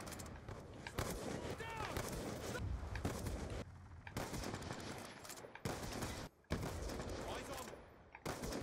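Sniper rifle gunfire in Black Ops 2, dense and continuous game audio with repeated sharp shot bursts and clatter, loud throughout with a brief dropout near the end, mixed with voices talking.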